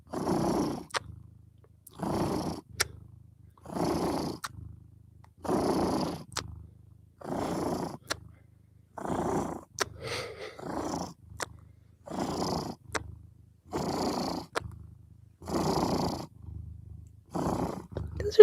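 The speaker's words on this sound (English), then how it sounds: "Those are some of the loudest purrs." A cat purrs very loudly up close, each rumbling breath arriving in a steady rhythm of long buzzing pulses with brief gaps between them, and nothing else is heard.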